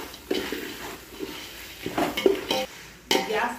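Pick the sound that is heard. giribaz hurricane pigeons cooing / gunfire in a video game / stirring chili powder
stirring chili powder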